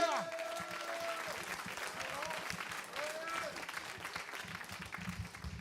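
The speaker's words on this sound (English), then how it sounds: "Another massive round of applause." Audience applause at a launch event, steady dense clapping throughout with voices and crowd noise mixed in, moderately loud and sustained across the whole stretch.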